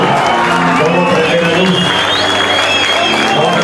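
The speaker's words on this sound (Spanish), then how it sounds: "Fuerte aplauso, aguante el heavy metal" Steady applause and cheering from a crowd at a heavy metal band's tenth-anniversary concert in Pico Truncado, Santa Cruz, Argentina, loud and continuous throughout, with shouting voices mixed into the clapping.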